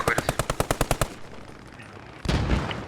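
Machine-gun fire in the World War II shooter Post Scriptum: a fast, evenly spaced burst of about ten loud, close shots, then a quiet pause before a heavier blast or volley rumbles in.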